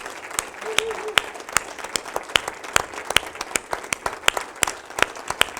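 A university audience at a leadership talk applauds the institution's president, with dense clapping and sharp individual claps standing out near the front, steady and moderately loud for several seconds.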